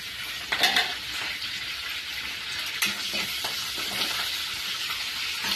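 Green chilies and curry leaves sizzle loudly in hot oil in a pan, a dense continuous crackle with a few utensil scrapes and taps scattered through it.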